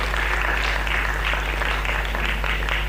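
A crowd at the Sochi Climathon 2024 event claps for the project partners, with steady, sustained applause throughout.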